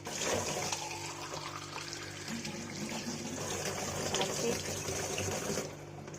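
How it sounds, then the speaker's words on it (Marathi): Water poured from a tap or jug into a cut plastic Bisleri bottle, a steady filling rush lasting several seconds, close and continuous before cutting off at the end. "आणि याच्यामध्ये मी भरते आता पाणी."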